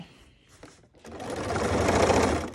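A sewing machine stitches a fabric pocket closed, starting after a brief quiet moment with light handling clicks and then running as a steady, close mechanical whir.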